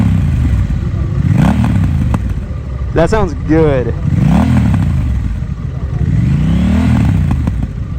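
Honda Rebel 1100T motorcycle with a Vance & Hines exhaust, idling then revved in several rising and falling swells up close, with a brief clatter midway and a person speaking briefly over it.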